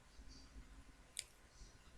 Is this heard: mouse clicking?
yes